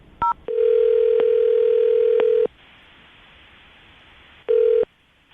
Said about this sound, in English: Let's see if we can call him back again and see if he'll answer.